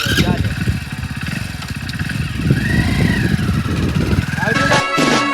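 A motorcycle engine runs steadily and fairly close throughout, with people talking over its drone.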